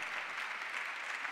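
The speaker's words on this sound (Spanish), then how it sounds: "Brindamos un fuerte y cálido aplauso" Audience at an honorary doctorate ceremony for Dora Barrancos at UNSAM breaks into sustained, warm applause, an even, continuous patter of many hands filling the hall.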